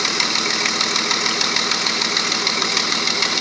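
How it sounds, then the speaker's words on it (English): A 1997 Dodge Dakota engine idling close up with a blown exhaust gasket, giving a steady rapid ticking puff over the engine's hum, loud and even, with no talk. "I got a exhaust leak over here somewhere"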